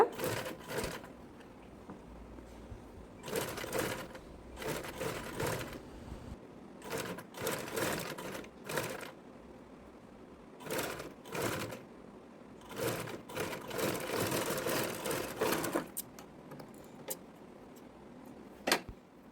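Domestic sewing machine stitching a garment neck finish along the side, running in repeated bursts of rapid mechanical whirring separated by short pauses, close and fairly loud, with no talking.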